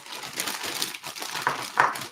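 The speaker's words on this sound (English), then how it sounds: "So that way I can stop digging through this plastic bag." A hand digs through a plastic bag of small craft supplies, producing soft, irregular crinkling rustles with a few sharper crackles, close and alone.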